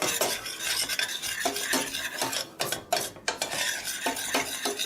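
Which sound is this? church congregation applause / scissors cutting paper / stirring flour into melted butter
stirring flour into melted butter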